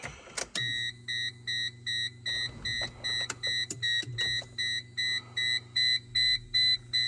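Repeated electronic beeps pulse at a steady rhythm from a Geo Tracker's warning chime, close up over a low engine hum, with a few clicks.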